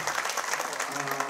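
Fans at an Incheon United football club fan day applaud in a continuous, crowded patter of clapping that stays fairly even from start to finish, with a voice faintly mixed in.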